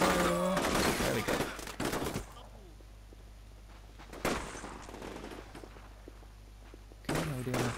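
Gunfire and explosions in the Combat Mission: Shock Force 2 military video game: a loud opening volley, sharp isolated blasts later, and a low steady hum between them, with no talking.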